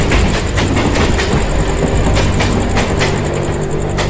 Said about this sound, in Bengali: সামনে দিয়ে রেলগাড়িটাও গর্জন করতে করতে বেরিয়ে গেছে